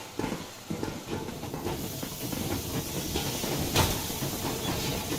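A steam locomotive sets off in the Metro Exodus video game, giving a steady, loud hiss of steam with rumbling, clanking undertones throughout.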